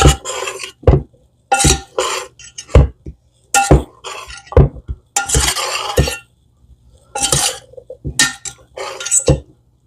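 A tuna noodle salad being mixed by hand in a bowl, with a spoon clinking and scraping against the dish in repeated close bursts of several strokes, separated by short pauses.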